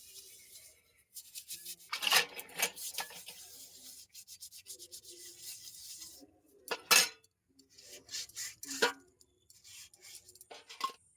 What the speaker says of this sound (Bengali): এবারে আমি একটু স্কচ ব্রাইট দিয়ে একটু হালকা করে ঘষে তারপর ধুয়ে নিয়ে এসে